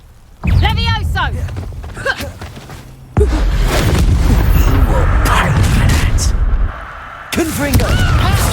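A Levioso spell is cast mid-combat in Hogwarts Legacy: a burst of magical whooshes and booming impacts rises sharply, then continues as a loud, dense clash of combat effects, with a voice talking over parts of it.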